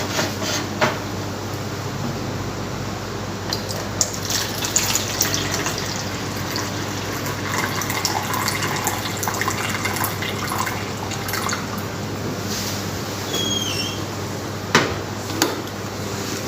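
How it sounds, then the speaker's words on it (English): Water poured from a lab vessel into a container up to 100 mL for a measurement-accuracy exercise; a continuous close trickle and splash with scattered drips and small clinks, running throughout without speech. "I will pour this water"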